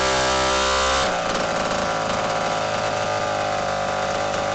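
A vintage Homelite WIZ two-stroke chainsaw engine runs loudly after a pull-start with a harsh, buzzing drone; after about a second the tone drops and it sputters roughly, uneven and close.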